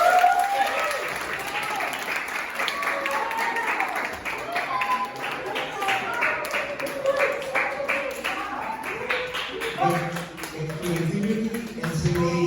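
A round of applause at a 7th grade sukkah fair, moderate clapping from a group of students and guests, somewhat distant and mixed with crowd murmur and voices talking over it.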